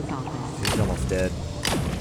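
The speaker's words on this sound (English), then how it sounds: "he just blew up. That was what that splattering sound was." Enemy blowing apart in the video game Void Bastards, two sharp bursts of wet splattering impact about a second apart, loud and close, separated by a brief whistling tone.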